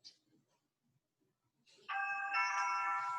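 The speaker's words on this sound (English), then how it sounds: "that's just when the door opens and closes" A door entry alert chime sounds once at home, a bright sustained electronic tone rising after a moment of near silence and ringing steadily to the end.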